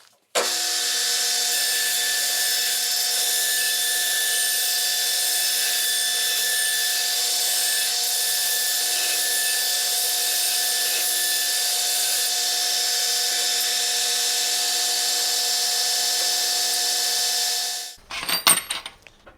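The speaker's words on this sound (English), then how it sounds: "my flap disc and I can put these round corners on this and kind of shape this" A 4.5-inch Makita angle grinder with a flap disc shapes and rounds the corners of metal parts for an antique stagecoach turnbuckle, a steady, loud, close whirring grind for about seventeen seconds before it cuts off and spins down.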